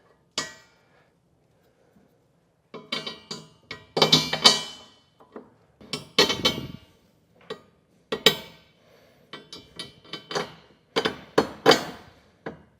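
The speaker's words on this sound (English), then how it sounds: "We're going to take our carriage bolts, put our rails back in place," Metal carriage bolts dropped into 5th wheel hitch base rails in the bed of a 2018 GMC pickup, scattered sharp metallic clinks and clanks in irregular bursts with short pauses, close and fairly loud.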